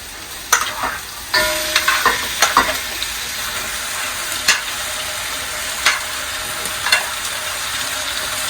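Mutton going into frying onions for biryani brings a strong, continuous sizzle, broken by a series of scraping, clattering stirs at irregular moments, close and loud, with no talking.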